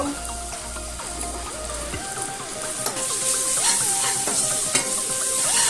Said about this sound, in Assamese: খুব ধুনীয়াকৈ এইখিনি লৰাম, অকণমান মজাম এইখিনি।